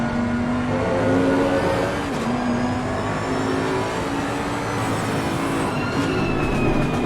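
Onboard engine of a race car in a sim racing endurance event at Imola, a loud, continuous, high-revving drone with rising and falling pitch as it changes gears, heard close and alone.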